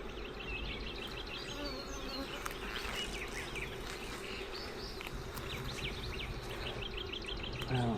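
Honey bees swarm around an open beehive during an inspection, a dense, steady insect buzz filling the whole stretch close by, with faint bird calls in the background and no talking.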